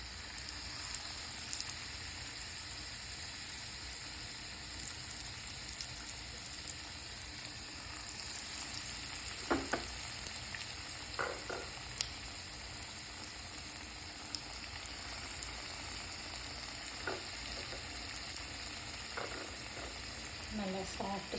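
Thin pieces of fresh tuna fry in oil with garlic, giving a steady, fairly quiet sizzle with occasional sharper pops and stirring clicks, close by and with no voices.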